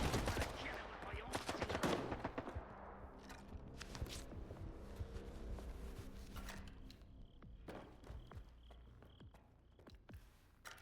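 Gunfire in S.T.A.L.K.E.R. 2: Heart of Chernobyl, a dense burst of loud shots early on that thins into scattered reports, with faint ambient game sounds and a little talk underneath.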